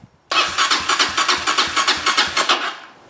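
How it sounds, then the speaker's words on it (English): A Honda CRF230 dirt bike with a bogging, stalling fault is cranked by its electric starter on choke, a loud rhythmic whirring churn of about a dozen pulsing strokes that fails to catch, then stops. "Now we'll turn the choke on, see if it starts."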